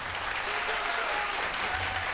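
An audience at a televised singing competition claps steadily throughout, a dense, even patter of applause at moderate loudness with no break.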